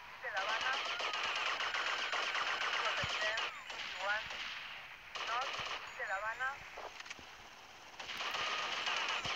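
Rapid automatic gunfire from a GTA video game session, dense bursts of shots with short pauses between volleys, steady and loud throughout while a voice talks over it.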